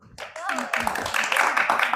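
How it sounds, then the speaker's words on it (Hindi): An audience claps for a contestant in a Republic Day quiz game modeled on Kaun Banega Crorepati, building from a few scattered claps into fuller applause, with voices audible at the start. "और इनके लिए फिर से जोरदार तालियां।"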